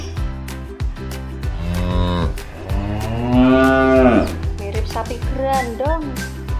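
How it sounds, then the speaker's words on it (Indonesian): A black toy cow gives long, loud electronic moos, one stretched low call following another, close up with some clicking handling noise. "Wah, ini ada sapi berwarna hitam."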